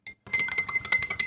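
Metal spoon clinking against a glass while stirring alcohol mixed with water, a quick run of light, bright taps in an uneven rhythm, close and fairly quiet.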